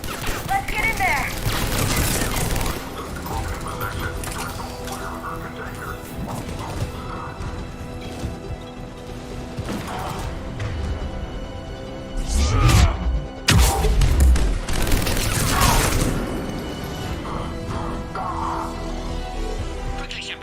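Gunfire crackles through a Mass Effect 3 firefight at a checkpoint, repeated bursts and heavy impacts over ongoing battle noise, loudest near the middle and later, with voices speaking in between.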